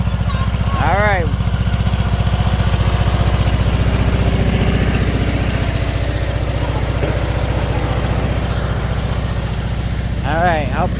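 A riding lawn mower's engine runs steadily and loud while it drives off-road up a mountain, a constant low drone throughout with a couple of brief chirping calls over it.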